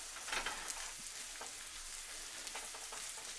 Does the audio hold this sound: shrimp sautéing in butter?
yes